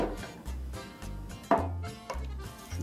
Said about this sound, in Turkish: Maydanozları mümkün olduğu kadar küçük doğrayalım.